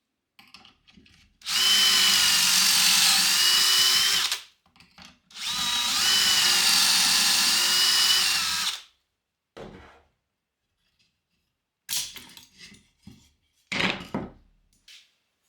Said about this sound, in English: I'm going to assemble everything with the pocket hole jig.